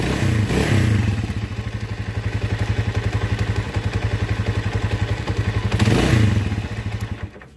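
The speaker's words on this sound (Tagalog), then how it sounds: "Ayan yung andar ng makina niya." A 200cc-converted small motorcycle engine runs nearby with a fast, even putter and a few brief revs, loud and steady throughout, with a rattle inside.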